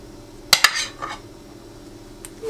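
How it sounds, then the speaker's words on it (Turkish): Yogurt is spooned into a bowl with a metal spoon for a yogurt sauce, giving a quick pair of close, sharp clinks and a brief scraping smear, then near quiet with one faint tap at the end. "Şöyle 4 yemek kaşığı kadar yoğurdu kabımın içerisine alıyorum."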